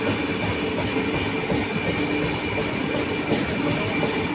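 A superfast express train running between Mysore and Bangalore rumbles steadily, heard from inside with continuous wheel and track noise and faint clatter, no voices.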